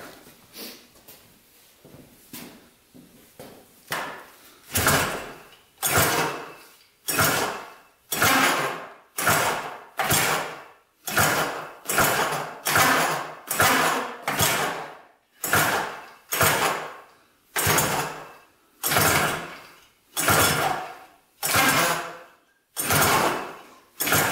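An abandoned three-wheeler's engine in rough shape is pulled over by hand again and again, a long series of rhythmic rasping pull-cord strokes, close and moderately loud, that never catches.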